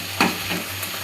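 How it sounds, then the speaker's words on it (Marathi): Okra and corn roasting in a pan, a soft steady sizzle with a brief scrape of stirring near the start, close and fairly quiet. "तुम्ही बघू शकता इकडे भेंडी पण भाजत चाललेली आहे।"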